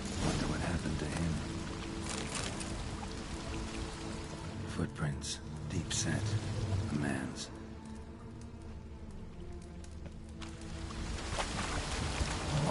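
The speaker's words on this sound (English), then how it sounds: "A waterfall flowing upwards." An upward-flowing waterfall in Witcher 3 gives a steady, broad rushing and pouring roar that fills the whole stretch, with someone speaking over it partway through.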